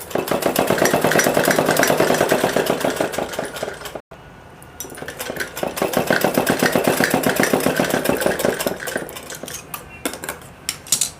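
A sewing machine stitches seams in cloth for a girl's suit, running in a fast, steady mechanical chatter that stops briefly partway through, then resumes and carries on to the end.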